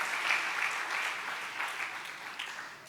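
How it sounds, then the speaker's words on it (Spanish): A church congregation claps in a loud, dense round of applause that holds steady for several seconds, then thins slightly toward the end. "Denle un buen aplauso a Jesús."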